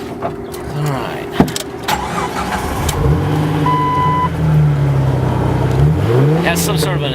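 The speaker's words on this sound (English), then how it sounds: "It has some sort of an aftermarket exhaust." A 2003 Jeep Wrangler with an aftermarket exhaust starts with some clunks and rattles, then its engine settles into a loud, steady drone that swells as it revs. The sound is close and prominent throughout.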